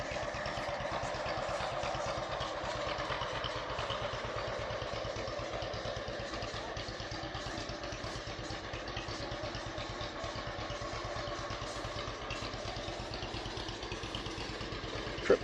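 A John Deere tractor engine at a Clay City, Indiana tractor show runs at a steady idle with rapid, even chugging pulses and mechanical clatter, moderately near and without voices.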